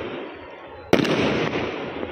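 Diwali firecrackers burst outdoors: after a steady background din, a sharp loud crack lands near the middle, followed by sustained crackling and popping that stays loud to the end.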